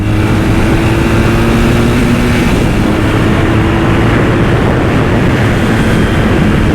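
A BMW R1200S motorcycle engine pulls hard up an on-ramp, a loud, close, continuous roar. The revs rise, then the note shifts as the throttle is held on, with heavy wind rush mixed in throughout.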